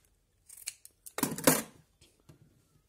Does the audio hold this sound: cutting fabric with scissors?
yes